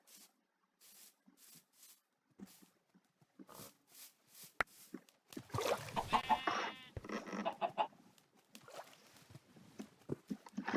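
A chicken clucks inside a cave survival video game, a short burst of loud, close clucking after a stretch of scattered quiet game clicks and taps.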